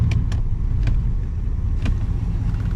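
1966 Pontiac Grand Prix barn find straining against a stuck passenger-side wheel, a low steady engine rumble throughout with several sharp clicks or knocks standing out over it, close and moderately loud.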